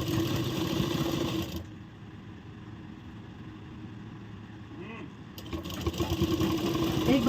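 A sewing machine runs steadily while stitching along the lower part of a blouse, a continuous mechanical whir that drops lower and quieter in the middle stretch before picking back up.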